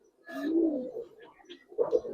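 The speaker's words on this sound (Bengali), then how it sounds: "দেখেন কবুতরটি দেখেন ভাই" Silver Giribaz and coloring pigeons coo at close range, one soft throaty burst followed by a shorter pair of coos after a brief pause.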